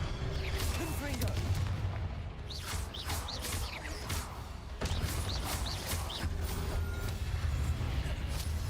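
A Confringo blast spell goes off in Hogwarts Legacy, several bright magical bursts and booms repeating over a steady game background while someone talks at intervals.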